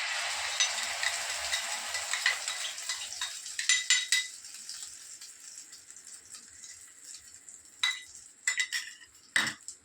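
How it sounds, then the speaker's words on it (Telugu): Two omelettes frying in a pan, with a soft sizzle fading under clinking utensil and pan rattles, a few sharp clatters near the end, close by and without speech. "బాగా కాలుతా ఉంది ఆమ్లెట్."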